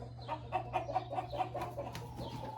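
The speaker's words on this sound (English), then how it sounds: "Chickens are in here. They're probably gonna get really loud when I come in here" Black, chocolate and Brahma chickens clucking together in a pen, a rapid run of close, repeated short clucks over a low steady hum.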